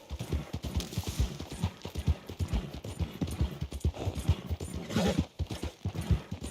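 Horse hooves clip-clop at a steady trotting rhythm in Red Dead Redemption, close and clear, with a faint mechanical clinking of tack running through the repeated beats.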